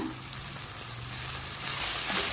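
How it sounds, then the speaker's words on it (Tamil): Mint leaves sautéing with tamarind and ginger in a pan for pudina chutney, a steady soft sizzle with faint stirring and no voice. "புதினா சேர்த்துட்டு ரொம்ப நேரம் வதக்க வேணாங்க"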